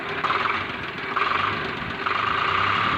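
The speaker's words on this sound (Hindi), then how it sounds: "जैसे हम इसमें रेस देते हैं तो इसमें ऐसा लगता है कि कोई चीज़ अंदर टच हो रही हो।" A Swaraj tractor engine revved with an internal rubbing fault, producing a steady, loud mechanical drone with rhythmic knocking pulses and three rising surges of revving.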